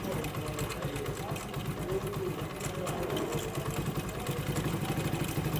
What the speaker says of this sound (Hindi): बाइक आपने देखा पहली किक पे स्टार्ट हो चुकी है, आरपीएम बढ़ा लिए हैं।